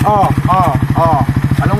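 A new motorcycle idles close by with a steady, lumpy engine pulse running throughout, while people talk loudly over it.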